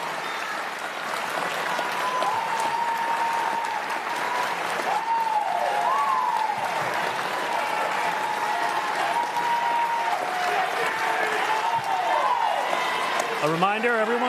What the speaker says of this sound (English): And now to the audience, you may applaud the candidates